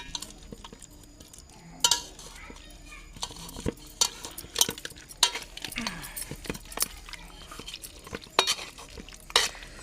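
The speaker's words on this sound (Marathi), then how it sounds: "आता वहिनी हे मॅश करून घेते आपल्याला पावभाजी करायची आहे" Boiled vegetables are mashed in a pot for pav bhaji, giving irregular clattering knocks and scrapes of a utensil against metal, close and fairly quiet, with a faint background sizzle.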